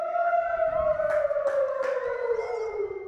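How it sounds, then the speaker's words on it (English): An air raid siren wails near the Israel–Lebanon border, its slowly falling tone dominating, with a few sharp thuds or knocks partway through. "The sirens are sounding,"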